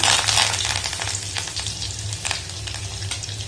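Shallots, garlic and curry leaves sauté in hot oil with mustard seeds already popped, giving a loud, steady crackling sizzle that flares in bursts, close by with no talk.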